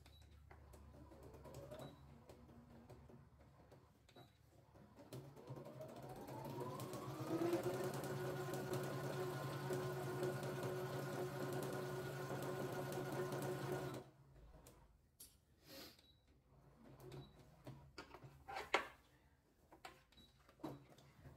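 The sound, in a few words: sewing machine stitching fabric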